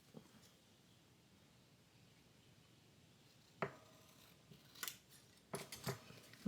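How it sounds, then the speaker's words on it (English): Scissors snip paper for a journal page in a quiet room, a few sharp, separate cuts after a hushed pause, close and crisp with brief rustling between them. "Let me cut this out first and then we'll measure it"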